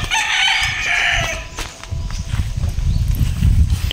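A rooster crows loudly and close by in the first second and a half, its long call rising and falling, followed by low scuffling and rustling sounds.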